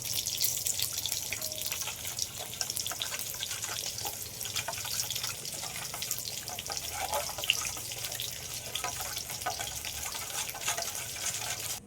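Water poured in a thin stream into a simmering Bengali hilsa mustard curry with turmeric, a steady close trickling and splashing that runs throughout, with a faint bubbling underneath.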